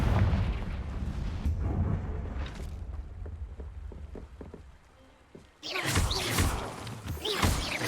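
An explosive Confringo spell blast in the Hogwarts Legacy video game, a heavy rumbling boom amid loud combat effects, followed by a quieter lull and then a sharp bright burst of crackling magic.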